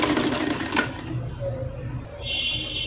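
Sewing machine stitching a plunge blouse, its rapid mechanical clatter running in short bursts under a voice talking throughout, with a thin high whine toward the end.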